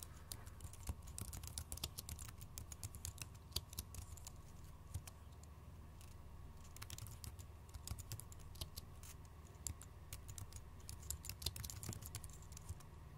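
Rapid, steady clicking of computer keyboard keys as commands are entered while setting up a CentOS FTP server, continuing close and clear for about thirteen seconds with no voices.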